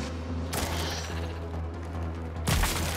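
Gunshots in the VR zombie shooter After the Fall: two loud, sharp blasts about two seconds apart, each cutting through a steady low droning game backdrop.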